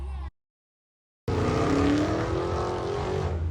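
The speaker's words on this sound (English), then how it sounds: "And the Charger that just launched," A Dodge Charger launching hard at a Mecum Kissimmee 2023 car event, with a loud engine roar that bursts in after a brief silence and holds strong and close to the end, with no talk.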